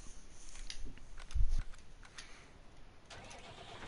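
A new tractor engine in Farming Simulator 19 cranks with a short low thump, then settles into a quiet, steady idle.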